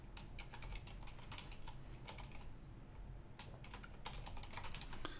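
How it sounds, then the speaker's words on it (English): Rapid typing on a computer keyboard, a quiet, close stream of clicking keystrokes in bursts with a short pause in between. "I can type whatever I want in these boxes here."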